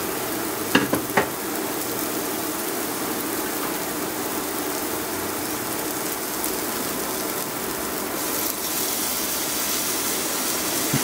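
Chicken sears in a hot pan for pininyahang manok, a loud, continuous sizzle with a few brief clanks near the start, heard alone.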